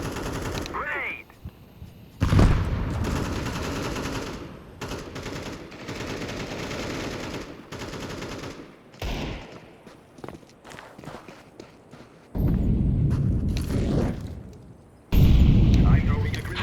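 Video-game combat: three heavy grenade blasts boom loudly between stretches of rapid gunfire and footsteps, with voices talking over the action.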